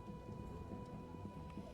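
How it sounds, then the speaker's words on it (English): A steady, low rumbling roar fills the whole stretch, broad and continuous like a jet engine passing overhead, with no voices present. "it's just a passing by jet"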